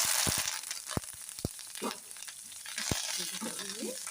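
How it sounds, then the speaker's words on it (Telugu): Curry leaves sizzling in hot tempering oil: a close, steady crackling hiss punctuated by several sharp pops and spatters, with a faint murmur of background noise. "కరివేపాకు అయితే వేసుకుంటున్నాను"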